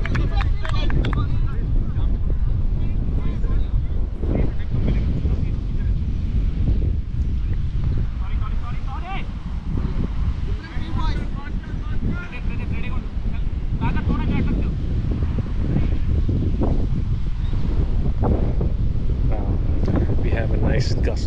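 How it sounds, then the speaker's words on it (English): Strong wind gusts buffet an outdoor cricket ground during a final, roaring steadily across the microphone throughout with brief dips, while commentators talk over it. "We have a nice gust blowing against the batsman"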